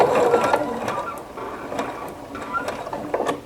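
Sewing machine stitching the binding on a table topper, a close mechanical whir with rhythmic ratcheting clicks that slows and halts with the needle down, no talking.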